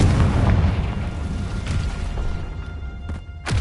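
A Confringo blasting curse explodes in a Harry Potter video game, a loud, sustained booming blast with rumbling low end, followed by a few sharper bursts near the end.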